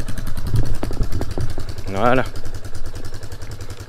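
RFX 250 enduro motorcycle with a baffle in the exhaust starting up, a few cranking pulses then a steady low idle putter, with a brief spoken word over it.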